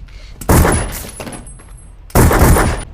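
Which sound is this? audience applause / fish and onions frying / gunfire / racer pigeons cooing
gunfire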